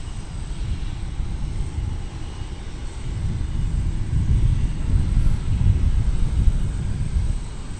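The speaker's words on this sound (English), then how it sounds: "So that was Martin Air Flight 662, a Super Cargo Master off to Abilene, Texas." A Martin Air Super Cargo Master cargo plane departing DFW airport produces a low, rumbling engine roar that swells gradually over several seconds, broad and somewhat distant, with no voices.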